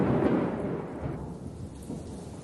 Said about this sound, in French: Un orage éclata.